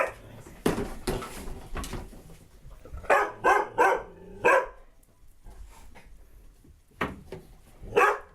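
Dogs reacting to a skeleton bark in sharp, loud bursts close by, several quick barks clustered together with pauses between them, and a little talk heard in the gaps.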